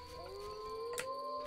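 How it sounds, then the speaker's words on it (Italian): Wolves howl in The Witcher, a long rising and sliding tonal wail with a second voice layered beneath it, steady and fairly loud over a faint game ambience, with a brief burst of noise near the end. "Ululati."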